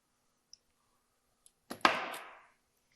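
A door lock cylinder opened with a single key: a couple of faint ticks, then a sharp metallic clack as the bolt turns, trailing off in a short ringing rattle, close and quiet otherwise.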